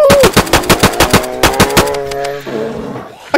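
Rapid rifle fire in DayZ on PS4, shooting a bear: about a dozen loud, sharp shots in quick succession, then a ringing tail as the firing stops.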